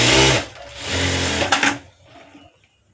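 Sewing machine stitching fabric for a light puff sleeve, a close, loud burst of fast whirring stitches that slows and stops, then faint handling noises.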